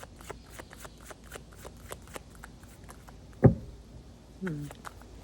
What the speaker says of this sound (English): Cards aren't wanting to shuffle today very well. Kind of sticking.